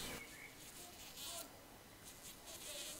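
A tree bumblebee queen hums in a faint, wavering buzz that rises and falls in short bursts, close but quiet against soft background noise.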